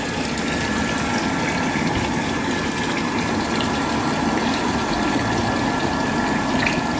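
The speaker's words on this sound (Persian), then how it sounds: "اینم آب داغمون که واقعا داغ شده." Hot water runs from a tap supplied by a gas combi boiler that also feeds the radiators, a steady broadband rushing with a low pump-like hum, continuous and fairly loud for the whole stretch with no voices.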